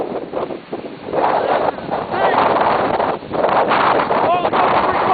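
Severe storm wind of about 80 mph in Grand County, Colorado, roaring and buffeting the microphone as one loud, continuous gusting rush with surging peaks throughout.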